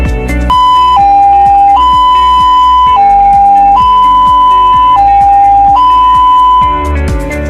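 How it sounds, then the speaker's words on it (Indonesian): An ambulance siren in a two-tone pattern resembling a railway crossing bell, the alert for picking up a patient, alternates steadily and very loudly over a rhythmic clanging pulse for several seconds, with no voices. "Jenis sirine yang pertama adalah sirine yang menyerupai bunyi palang kereta api,"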